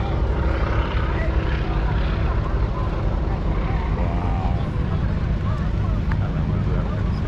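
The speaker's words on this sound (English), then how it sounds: "That wasn't actually the growl of the engine. That was the propeller tips" A propeller-driven airplane flies past at an airshow, its broadband engine and propeller roar holding steady and loud throughout, with crowd murmur beneath.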